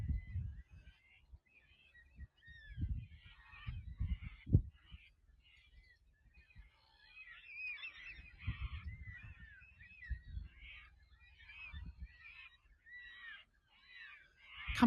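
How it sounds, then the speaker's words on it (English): Black cockatoos call in the bush, harsh wailing and honking cries repeated in a loose series at middle distance, mixed with low rumbling handling or wind noise up close. "Do you hear that? Those are black cockatoos."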